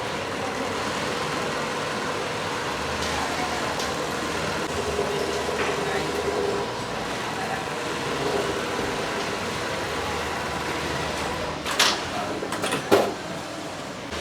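A cap design machine running in a cap manufacturing workshop, giving a steady continuous mechanical hum and whir for the full length, with a few sharp clicks and knocks near the end.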